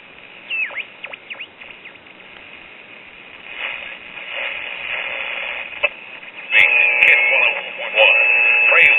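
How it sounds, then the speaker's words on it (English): Crackling, buzzing static comes from a 1954 Sears Silvertone radio with subminiature tubes, at first thin with sporadic pops, then swelling into a louder hiss with tonal whines near the end. "I'm hearing static"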